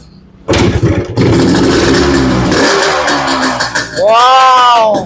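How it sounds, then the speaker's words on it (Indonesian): A Yamaha RS 100, a 1970s two-stroke sport motorcycle, is kicked over and catches, then runs with a loud, close, crackling idle that wavers before rising into sharp revving, and a voice sounds briefly over the start. "Motor sport 2 tak era tahun 70-an."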